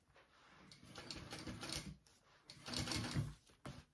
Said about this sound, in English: you can just clip it into place first and then sew it on